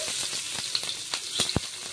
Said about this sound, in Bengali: তেলের মধ্যে পেঁয়াজটাকে ভালো করে ভেজে নেব।